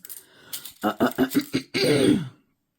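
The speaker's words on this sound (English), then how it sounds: "I'm sorry for having to clear my throat." A person clearing their throat close to the microphone, a series of short rhythmic guttural bursts followed by one longer rasping clear, then silence.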